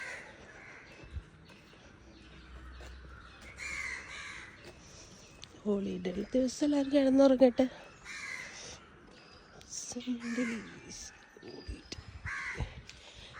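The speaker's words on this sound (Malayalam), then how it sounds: "കാക്കകൾ കാ കാ എന്ന് പറയുന്നു" Crows caw repeatedly in bursts, fairly close, with a person speaking in between the calls.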